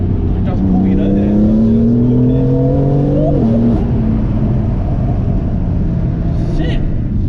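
A 560 bhp BMW M3 accelerates hard, its engine note climbing loudly, dropping briefly at a gear change, then pulling and rising again in a constant close roar heard from inside the car.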